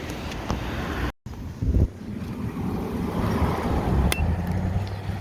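Wind blusters steadily outdoors at a fiber cable-pulling job site, a constant broadband rush with microphone buffeting and a brief dropout, with no talking.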